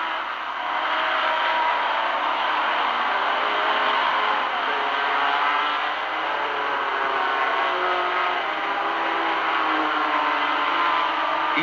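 Ford racing cars, including a Ford MK2, take the first corner of an endurance race as one continuous, loud roar of engines that holds steady throughout, with no voices.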